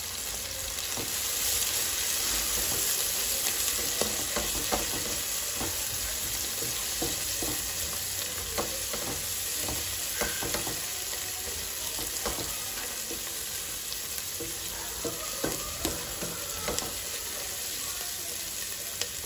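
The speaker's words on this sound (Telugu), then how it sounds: "ఇప్పుడు మనం మూత పెట్టుకొని మగ్గించుకుందాం ఒక 1 నిమిషం" Mutton curry cooking in a covered pan, a long, even sizzle and low bubbling hiss, close and steady, dotted with small crackles and occasional faint clinks, without voices.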